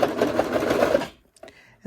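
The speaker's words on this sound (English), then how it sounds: "get it underneath the presser foot and get it started in this little area here" Sewing machine stitching a strap onto a bath mitt, a steady close whirring run of about a second that stops abruptly, followed by a few faint clicks and handling sounds.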